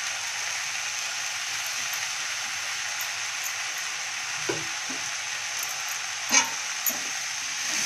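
Dill and moong dal vegetable stirred in a pan over low gas, a steady soft sizzle with a few faint spoon scrapes against the pan near the end.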